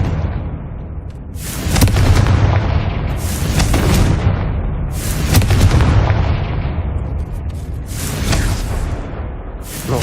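A Confringo blasting spell explodes repeatedly in Hogwarts Legacy, with four loud booming blasts spaced about two seconds apart, each a sharp crack followed by a long rumbling decay, close and heavy with no talking.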